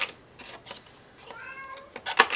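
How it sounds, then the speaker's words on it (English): A house cat gives a single drawn-out meow amid quiet room noise, with sharp taps and clicks of crafting work around it and a louder clatter just after. "that's my cat meowing."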